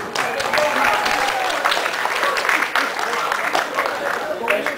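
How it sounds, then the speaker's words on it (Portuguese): Audience applause at a cosplay parade at a games event, steady dense clapping from the crowd with voices mixed in under it. "Palmas pra ele, gente. Vamos aplaudir."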